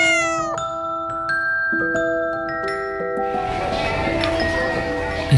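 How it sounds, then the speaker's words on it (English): A cat meows repeatedly and insistently, loud and close, with drawn-out tonal cries overlapping one another, at a cocktail bar in Singapore. "It's a cat. That's a very nice kitty."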